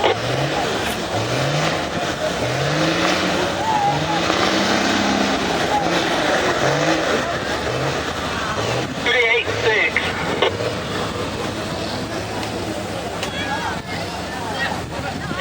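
Stock trucks running at a mud bog, engines roaring and revving in repeated rising sweeps over steady wind-buffeted crowd noise, loud and continuous throughout.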